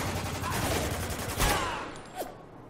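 Gunfire in the video game Spec Ops: The Line, dense automatic bursts and scattered shots from a firefight, fairly loud and continuous, fading after a couple of seconds with one final distant crack.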